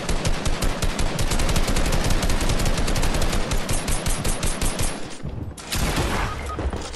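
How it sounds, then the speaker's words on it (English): Video game gunfire aimed at the player, a dense, loud, continuous stream of rapid automatic shots that briefly drops out before resuming. "Oh, I'm being shot at."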